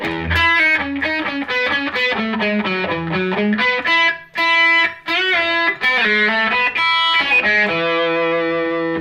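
An electric guitar plays a staccato, muted run of short, clipped notes starting on a low E, then rings out with sustained chords toward the end.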